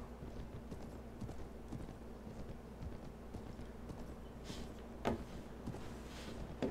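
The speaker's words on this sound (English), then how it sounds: "How fast is this horse?" Horse hooves from the game Mount and Blade: Warband clop in a steady, rapid rhythm at moderate volume, with a couple of louder thumps late in the stretch and no talking.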